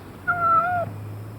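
White Cat gives a single clear meow of just over half a second, rising then bending down, fairly close against a low steady hum.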